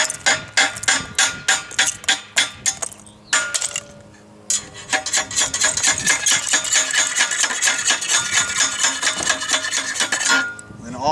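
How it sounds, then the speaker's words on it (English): A slate hammer punches holes in slate roofing shingles. Sharp, ringing metallic taps come in a quick regular series, followed by a short pause and then a denser run of clinking strikes. It is close and loud, with no talk. "you'll have to poke it with your slate hammer right next to the mark."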